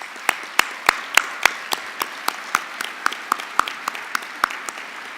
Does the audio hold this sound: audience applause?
yes